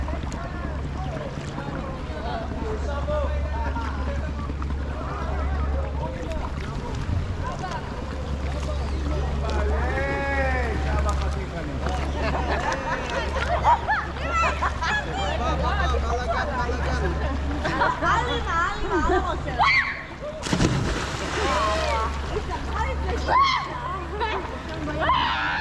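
Kayak paddling on the smooth turquoise water of Koh Hong Lagoon in Phang Nga Bay, Phuket, with a steady low engine drone and occasional soft water sounds, under near, continuous talk, and a brief loud burst near the end.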